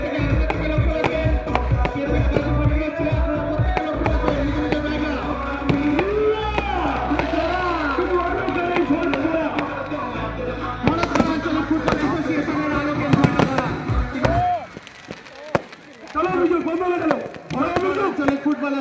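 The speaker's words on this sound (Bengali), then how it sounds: "আলোকের ঝর্ণা ধরা আতশবাজি চতুর্দিকে যেমন আলোকের ঝর্ণা আপনারা দেখতে পাচ্ছেন" Fountain-style fireworks burst and crackle at an outdoor regional football association event, with rapid sharp pops and sputters throughout while an announcer speaks over a loudspeaker and the crowd murmurs.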